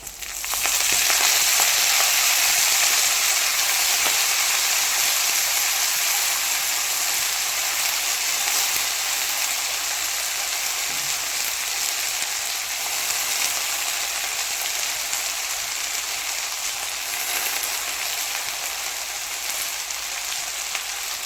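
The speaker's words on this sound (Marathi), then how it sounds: "आता पहा लसूण आपल्याला ब्राऊन झाला आहे आता एका मेथी घालून घ्यायची आहे" Fenugreek leaves tossed into a pan with garlic fried until brown, producing a constant hissing sizzle that stays loud and even throughout, with faint stirring and no talking.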